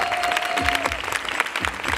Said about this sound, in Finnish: Annetaan vielä kunnon aplodit.